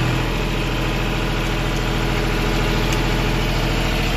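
A John Deere 5105 tractor engine runs steadily at 1500 RPM with the lift down, a loud, constant low diesel throb close by with no talk.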